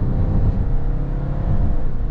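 A 2022 Hyundai Staria accelerating in sports mode, giving a loud, low, continuous engine rumble from inside the cabin.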